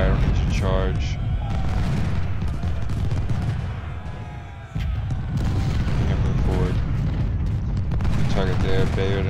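Massed musket volleys and booming cannon fire rumble through a Civil War battle in a strategy video game, with someone talking over the continuous din of battle.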